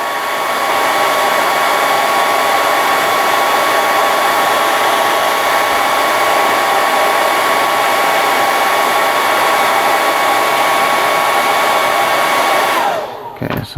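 A hot air tool blows steadily and loudly on a plastic part from a 1/72 Sinanju model kit, a constant close whooshing roar with a faint whine that runs nearly the whole time before cutting off abruptly near the end.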